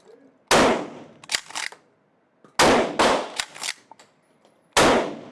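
A pump-action shotgun fired at an indoor gun range in Krakow, Poland: three loud, close blasts spaced about two seconds apart, each followed by the clack of the slide being racked.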